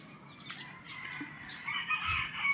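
A rooster crows from a backyard chicken coop at about six in the morning, the calls moderately loud over steady bird chirping and outdoor ambience, no talking.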